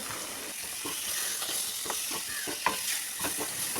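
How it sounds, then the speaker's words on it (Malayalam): Spices stirred in a hot pan for okra masala, steady sizzling and frying hiss with soft repeated scrapes of the spoon. "ഇതൊന്ന് ഇളക്കി കൊടുക്കാം."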